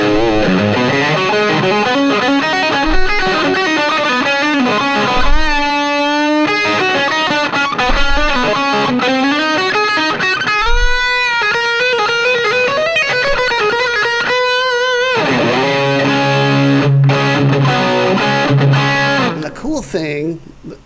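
A heavily distorted electric guitar plays riffs and bent sustained notes through a loud amp channel based on the Silver Hammer for about twenty seconds, with no voices.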